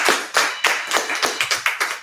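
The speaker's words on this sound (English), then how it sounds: "Let's give her a round of applause." Seminar audience applauding a volunteer coming up to the stage: a string of about eight crisp, fairly close claps at a steady, slightly uneven pace, with no talking over them.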